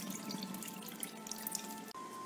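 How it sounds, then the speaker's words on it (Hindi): Soaking water poured off wheat dalia into a sink before cooking: a steady, close rush of splashing liquid that runs without a break for about two seconds, with no voices. "दलिये को पकाने से पहले जो है आपने ये वाला पानी इनका फेंक देना है"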